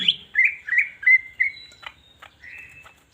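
A green leafbird (cucak hijau) sings a clear, close series of bright whistled phrases and sharp chirps, alone against a quiet background.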